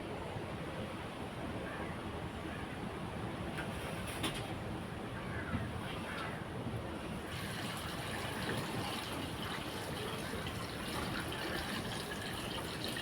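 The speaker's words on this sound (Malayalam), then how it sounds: "ആ വെള്ളം നമുക്ക് ഈ ഭരണിലേക്ക് ഒഴിച്ചു കൊടുക്കാവേ" Cooled water pours steadily into a jar of salted mangoes, a soft, continuous rushing that stays even and fairly faint throughout, with no talk.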